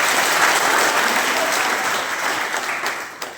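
Loud, sustained applause from a large crowd welcoming community members at a Kurmi Mahakumbh gathering on an open ground, steady throughout with no speech over it.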